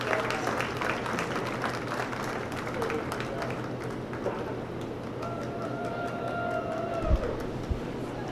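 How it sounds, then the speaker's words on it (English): A crowd at the 2024 Dodge County Fair dairy show claps for the showmanship participants, a steady, moderately loud patter of applause filling the arena with a few sharp taps near the end. "please join me in giving everybody a big round of applause"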